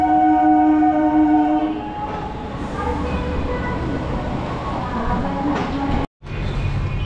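A train horn sounds steadily at Princep Ghat, a metro-style railway station in Kolkata, then gives way to the rumble of the train rolling past, loud and close, ending with a brief cutout.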